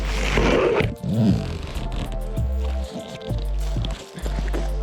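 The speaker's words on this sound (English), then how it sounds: "I'm gonna zip it up." Zipper being pulled shut on a camping bag stuffed with food, several quick scraping zips in short runs with small pauses between, close by and fairly loud.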